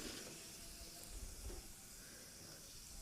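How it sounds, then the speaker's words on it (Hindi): Cumin seeds crackling and sizzling in hot mustard oil in a kadhai, a steady soft hiss with faint crackles throughout, close and without talking. "तेल बिल्कुल अच्छे से गर्म हो जाएगा तब इसके बाद हम इसमें डालेंगे जीरा 1 चम्मच, इसको चटकने देंगे।"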